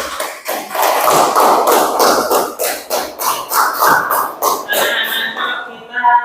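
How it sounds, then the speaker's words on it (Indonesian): Classroom of schoolchildren clapping for a group presentation, a dense, loud run of hand claps in uneven bursts that thins out near the end. "tepuk tangan untuk kelompok 1"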